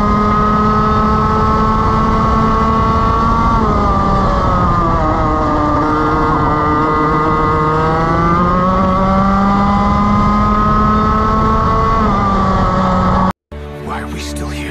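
A racing go-kart engine screams continuously at high revs on a qualifying lap at Spa-Francorchamps, pitch rising and falling through gear changes and corners, loud and close before cutting abruptly near the end.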